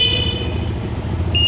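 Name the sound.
Lifan motorcycle horn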